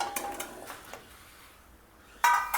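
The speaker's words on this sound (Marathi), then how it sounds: "आपण इथे कढईमध्ये आता हा चिरलेला टोमॅटो टाकणार आहोत." Large pieces of chopped tomato go into a kadhai for homemade tomato ketchup. A few light metallic clinks and taps are followed by a quiet pause, then a sudden louder clatter near the end.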